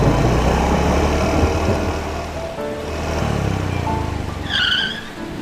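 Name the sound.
motorcycle taxi (ojek) speeding in the rain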